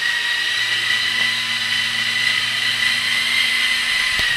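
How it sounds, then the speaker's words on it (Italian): A steady high-pitched motor whine with a buzzing rotor hum runs continuously at close range, like a small toy helicopter hovering indoors. "a casa Triassi si gioca con gli elicotteri"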